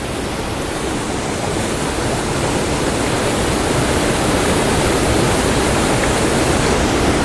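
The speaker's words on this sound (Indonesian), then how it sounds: "aku udah ada di air terjun Kedung Bedut" Loud, constant roar of the Kedung Bedut waterfall near Yogyakarta, a dense wash of rushing water filling the whole stretch with no voices.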